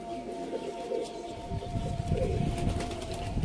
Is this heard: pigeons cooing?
yes